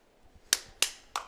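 Three sharp, separate hand claps, each with a short ringing tail, close and fairly quiet, spaced roughly a third of a second apart at a podcast recording.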